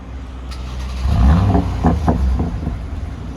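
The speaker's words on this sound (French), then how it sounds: "Tu allumes et tu mets quelques coups de gaz" Mercedes C43 AMG started with a push button, its engine catching with a deep rumble and then revving several times in quick blips, loud and close.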